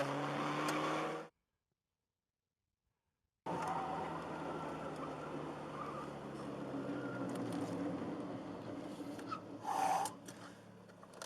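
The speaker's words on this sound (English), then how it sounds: "I think I lost my muffler. Something is riding against the road." Car that has lost its muffler, with something scraping the road, a loud rough engine drone and road rumble after a brief dropout, with breathy noises near the end.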